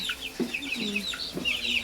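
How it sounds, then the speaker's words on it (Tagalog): Chickens cluck and chirp nearby in overlapping short calls, with a faint steady background hum. "Ito po kayo sa ating alagang manok"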